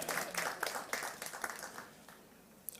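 A small audience at a bank's results presentation claps briefly, a light patter of hands that starts moderately and thins out over a couple of seconds, heard from across the room with no voices over it.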